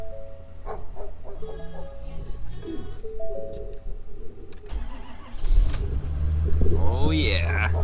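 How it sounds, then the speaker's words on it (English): A 2019 Ford Super Duty truck cold-starts after some quieter handling noises: the engine cranks and catches about two-thirds of the way through, then settles into a loud, rough idle nearby. "So I'll give you a little bonus cold start."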